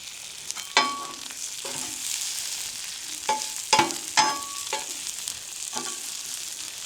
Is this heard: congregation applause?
no